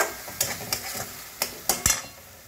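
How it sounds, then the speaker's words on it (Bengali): Garlic fries with turmeric in a pan, a soft sizzle broken by several sharp scraping stirs of a spatula against the metal, close and fairly quiet. "রসুনটা দেখুন ভাজা ভাজা হয়ে গেছে"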